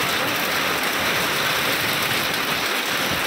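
Hailstones pelting down outdoors in a steady, dense hiss, a continuous broadband patter with no gaps and no voices.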